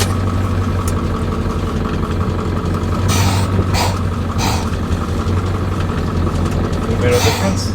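An OBS Powerstroke diesel work truck running with a straight-pipe exhaust idles with a steady, loud, low rumble throughout, while people talk over it.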